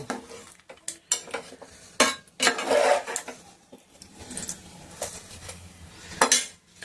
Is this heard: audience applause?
no